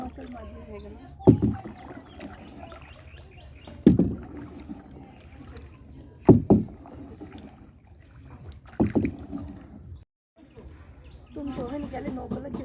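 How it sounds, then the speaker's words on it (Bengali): A rowboat is pulled through water at a park lake. Oar strokes splash and knock at regular intervals of a few seconds, and people's voices and faint outdoor sounds come between the strokes. "হ্যাঁ নৌকা টান দেন"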